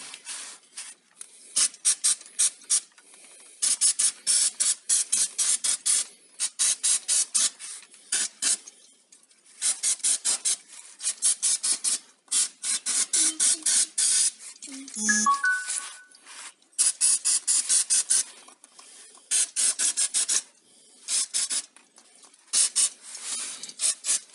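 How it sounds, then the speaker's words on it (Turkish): Repeated short bursts of aerosol brake cleaner spray hiss close by, broken by brief pauses, with a small metallic clink partway through. "Balata spreyimizde de güzelce temizliğini yapalım"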